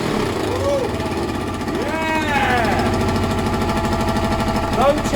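A Kawasaki ZL600 motorcycle engine with newly rebuilt carburetors revving, a loud, rough mid-pitched drone that rises and falls in pitch several times, with a voice talking over it.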